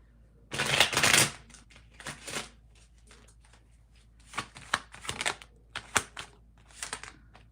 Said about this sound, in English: I keep shuffling the card and putting it back in the deck